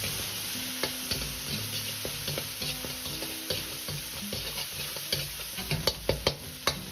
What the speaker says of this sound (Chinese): 煸炒出香味。